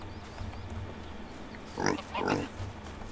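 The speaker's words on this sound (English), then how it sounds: "We do have a little piggy." A pig in the Medieval Dynasty video game gives two short grunting oinks close by, over a steady low hum of in-game ambience.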